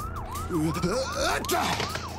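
A police car siren in a Transformers Rescue Bots cartoon wails in rapid, repeated rising and falling sweeps, fairly loud and close, with a few other cartoon sounds mixed in.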